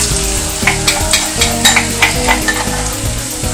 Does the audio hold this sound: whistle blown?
no